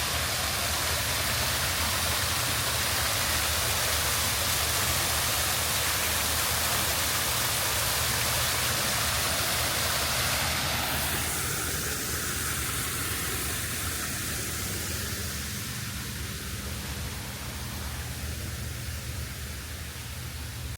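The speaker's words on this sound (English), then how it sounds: "Getting close to running water, I can hear it." Steady, loud rushing water from a jungle water feature on Sentosa Island, Singapore, fills the whole span, a dense hiss of flowing or falling water that never lets up.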